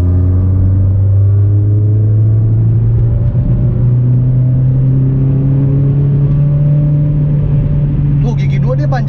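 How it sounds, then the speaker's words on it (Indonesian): A second-generation Toyota MR2 W20 pulls hard in second gear, a loud continuous engine drone climbing slowly in pitch over several seconds with a rough rumble beneath, heard from inside the car. "Kita masukin kedua. Kita mulai gas."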